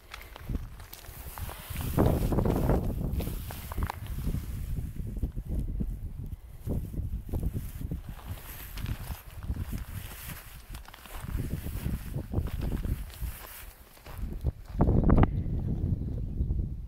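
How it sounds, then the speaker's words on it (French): Footsteps crunch over loose stones at a walking pace, close and uneven, with soft wind in the background and no voices. "C'est intéressant d'entendre marcher."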